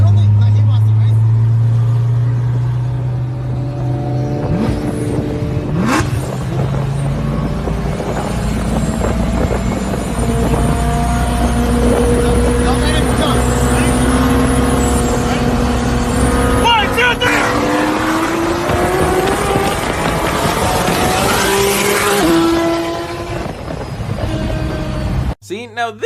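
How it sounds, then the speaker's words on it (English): A Nissan GT-R launches and accelerates hard from a standstill to very high speed, its engine pitch climbing steadily through the gears over roughly 25 seconds, loud and close, with wind buffeting and voices talking over it. "Seeing a GTR take off 0 to 200 really quick"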